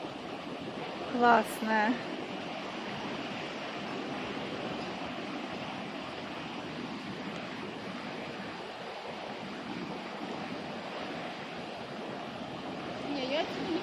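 A wide, full-flowing river at the Pyv pass in Abkhazia gives a steady, close rushing roar of water throughout, with a voice speaking briefly near the start.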